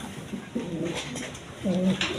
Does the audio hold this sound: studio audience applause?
no